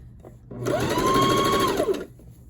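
A sewing machine runs a single steady burst of stitching as it sews a pin tuck along a seam, starting, holding an even whirring speed for over a second, then stopping, close and fairly loud.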